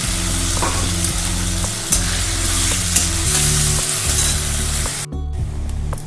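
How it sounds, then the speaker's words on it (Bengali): A spice paste of ginger, tomato, chilli and garlic cooks with potatoes in oil, sizzling loudly and steadily close up while a utensil stirs and scrapes in a regular rhythm, with no talking. "এবার ভালো করে কষাবো যতক্ষণ না মশলা থেকে তেল বেরিয়ে আসবে"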